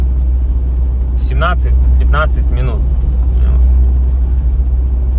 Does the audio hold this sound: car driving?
yes